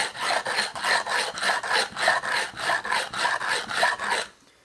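Grinding a 6-inch telescope mirror with 80 grit against tiles: steady rhythmic rasping strokes, about ten in a row, close and even, then stopping abruptly.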